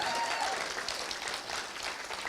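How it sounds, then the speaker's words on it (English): Wedding guests at a toast give a round of applause, dense continuous clapping from a crowd, fairly soft and steady throughout. "Let's give them a round of applause."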